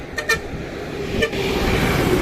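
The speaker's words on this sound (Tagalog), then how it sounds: "Ayan, may dumadaan na bus." A passing bus on a seaside provincial road in Kawit, Cavite, giving a couple of short honks over steady traffic rumble, then a louder swell as it goes by.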